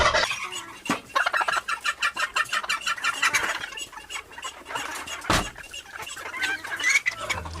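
Several chickens cluck and squawk close by in short, irregular bursts, with a few sharper cries among them.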